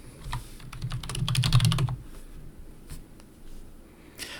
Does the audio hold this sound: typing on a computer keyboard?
yes